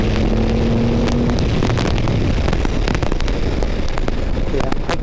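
A Triumph Rocket 3 GT motorcycle engine pulls hard under acceleration with a loud, sustained roar, heavily buffeted by wind noise at speed and with no talk.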